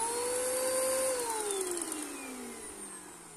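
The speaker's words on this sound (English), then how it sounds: "It kind of sounds like it's trying to wind up a belt." A Bissell Powerforce bagless vacuum cleaner runs with a clog, its loud motor whine straining and sliding steadily downward in pitch as if a belt were winding up; close and continuous, with no voices.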